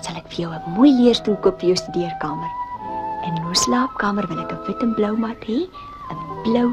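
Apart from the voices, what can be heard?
No everyday noises stand out.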